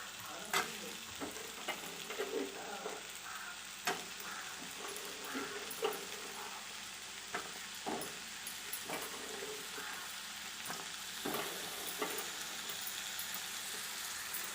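Jackfruit seeds stir-fried in a tomato masala: a continuous close sizzle broken by repeated scraping knocks of a spatula against the pan, with no talking.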